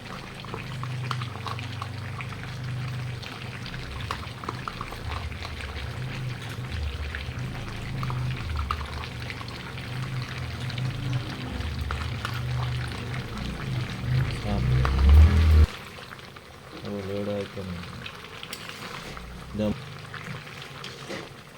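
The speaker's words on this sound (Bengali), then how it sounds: "মাংসটা বুদবুদি উঠেছে" Meat curry bubbles and simmers in a pot, with a continuous low bubbling sizzle that carries on throughout while a person talks over it.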